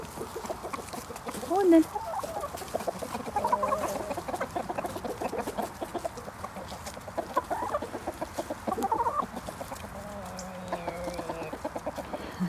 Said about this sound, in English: Chickens absolutely love tomatoes. They just go mad for them.